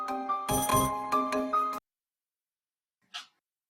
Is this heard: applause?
no